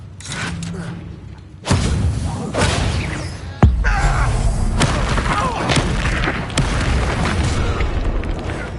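Confringo spell blasts in the Hogwarts Legacy game, a sharp boom at the start and a second thudding burst partway through, set in a dense, noisy bed of combat effects and music.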